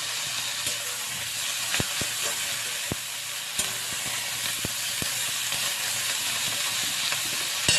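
Boiled taro leaves stirred in hot oil with black cumin seeds for a Bengali kochupata prawn dish, a constant hissing sizzle punctuated by sharp utensil taps against the pan.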